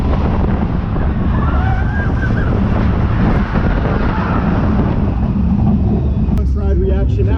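Riding the Loch Ness Monster roller coaster at Busch Gardens: a loud, constant roar of rushing wind and rattling track noise fills the whole ride, with voices faintly audible beneath it.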